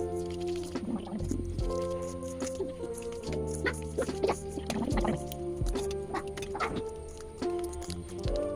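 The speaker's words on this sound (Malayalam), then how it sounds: "1/2 കപ്പ് പാലും കൂടി ചേർത്തിട്ട് ഇത് നല്ല പോലെ കട്ട കെട്ടാതെ മിക്സ് ചെയ്തെടുക്കണം" Melted butter and half a cup of milk are stirred into chocolate cake batter, giving wet squishing and scraping strokes under steady background music.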